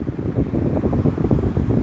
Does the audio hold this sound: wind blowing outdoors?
yes